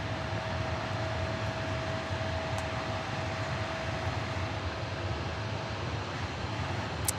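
Heavy jet aircraft at DFW airport produce a steady, distant broadband roar that holds at an even level for several seconds, with no talking.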